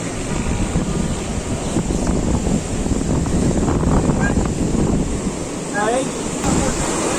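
The fast, powerful Kunhar River rushes beneath a bridge near Naran, a loud continuous roar of churning water mixed with wind buffeting the microphone, with no voices.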